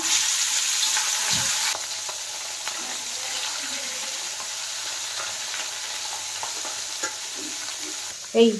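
Marinated whole rohu fish frying in hot oil in a pan, a steady broadband sizzle running throughout with occasional spatters and a louder clatter near the end, no talking.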